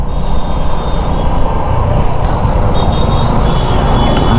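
Heavy road traffic around a rider on a Suzuki V-Strom SX 250 motorcycle on a jammed road: a loud, continuous rumble of engines and wind, dense and unbroken, with no talking.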